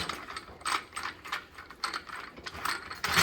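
A nut spun down and tightened by hand in a garage workshop, giving a run of quick close ratcheting, metallic clicks in irregular bursts with no talk.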